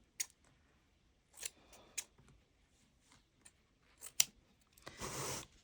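Scissors snip through yarn loops in a series of faint, close, crisp cuts spaced irregularly, ending with a brief rustle of handled yarn.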